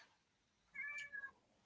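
A cat at the window gives a single short, faint meow, heard alone in a quiet indoor room.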